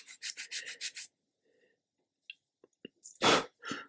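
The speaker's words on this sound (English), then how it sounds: "just filing off this bottom edge and putting a little angle in" A file rasps in quick, even strokes, chamfering the bottom edge of a small part for a 1/80 scale Amati Endeavour model ship, followed by a pause, faint taps and a louder rough scrape close by.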